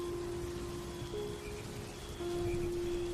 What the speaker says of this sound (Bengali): চারিদিকে শুধু বৃষ্টির শব্দ